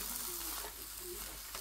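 Butternut squash and pak choi stir fry mix sizzles in a frying pan, a soft, steady hiss with faint stirring scrapes, quiet and continuous with no talk over it.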